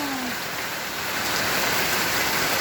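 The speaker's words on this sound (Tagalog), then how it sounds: "thank you Lord sa ulan" Rain falls steadily after months of dry weather, a dense, even hiss that swells slightly louder partway through, with no voices over it.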